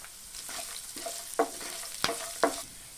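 Red chili, garlic and ginger frying in oil, a soft continuous sizzle broken by several sharp scrapes and clacks of a spoon stirring in the pan.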